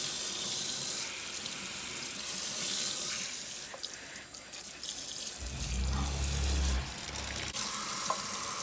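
A kitchen sink tap runs steadily as dusty orchid leaves are gently rinsed under the flow, a close, continuous splashing wash with brief changes as the water hits the leaves.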